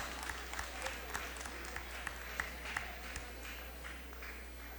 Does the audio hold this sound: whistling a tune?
no